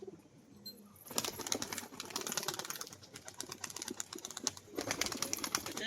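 Fancy pigeons with feathered feet are close by, with soft cooing and a busy run of scratchy fluttering and pecking sounds.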